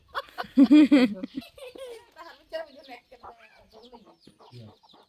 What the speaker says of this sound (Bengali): এই মুরগিটা কাছে যাই না মুরগিটা কামড় দিয়ে